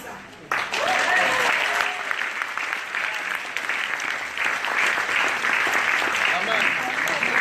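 A congregation at a church sermon in Paris breaks into sustained applause mixed with cheering, which starts abruptly and holds at full strength throughout. Voices can be heard shouting within the crowd.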